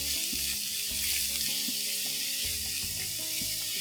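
Fatty beef frying in a pan for a quesadilla, a dense, steady sizzle and crackle throughout with occasional stirring scrapes, close and continuous, no talking.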